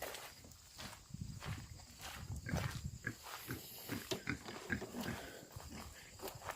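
Pigs root through thick mud outdoors on a farm, with close snuffling, grunting and squelching in irregular bursts and occasional footsteps, and no talking.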